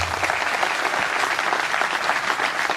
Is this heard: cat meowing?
no